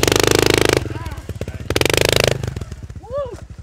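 Dirt bike engine revving hard in two long bursts as a rider learns to wheelie, loud and close, with shouted voices between the revs.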